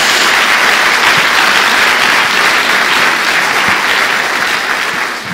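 Church congregation applauding at a worship service, a dense steady wash of clapping that fills the whole stretch and thins slightly at the very end, with no talk over it.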